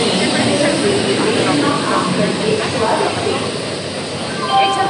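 Steady rumble and hiss of a freight train at a station platform in Durg, continuous for the whole stretch, with background voices and a brief brighter squeal near the end.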